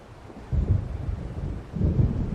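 Low rumbling thunder of an approaching storm in Alan Wake Remastered, two swelling rolls over a steady windy, rainy background with no voices.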